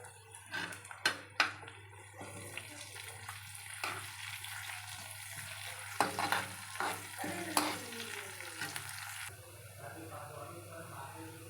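Onions fry with red lentils and curry leaves in a pan, giving quiet sizzling with scattered stirring scrapes and clatters; faint talk occurs in places.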